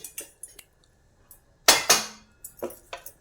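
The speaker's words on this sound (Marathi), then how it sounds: "आता हे आपण याच्यावरचं झाकण काढू" A lid comes off a cooking pot in a home kitchen, with a few sharp metallic clinks and a louder clatter in the middle, close and distinct against quiet.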